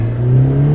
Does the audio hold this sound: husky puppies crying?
no